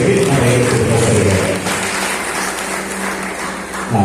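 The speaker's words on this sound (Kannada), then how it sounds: "ಒಮ್ಮೆ ಜೋರಾದ ಚಪ್ಪಾಳೆ ನಮ್ಮ ಎರಡು ಕುಟುಂಬಸ್ಥರಿಗೆ" A crowd at a wedding reception applauds loudly, a dense burst of clapping that stays strong and then eases into a softer continuing patter.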